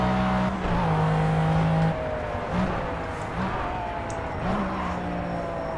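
McLaren F1 race car lapping Le Mans in the Project CARS racing game, engine droning loud and steady with pitch rising and falling through gear changes and braking, continuous throughout.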